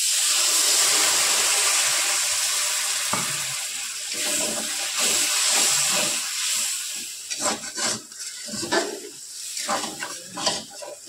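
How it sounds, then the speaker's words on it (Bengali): Water is poured into a hot pan of jackfruit and prawn curry, a loud hiss and sizzle that gradually fades, followed by intermittent stirring and scraping. "একটু জল দিয়ে দিই।"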